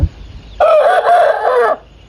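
A single loud, close rooster crow, a drawn-out cock-a-doodle-doo lasting about a second.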